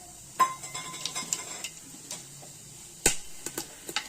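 Twenty-five grams of mixed whole spices hitting a quarter litre of hot oil for chicken biryani, giving a steady close crackling sizzle with scattered sharp pops and ticks, no voices.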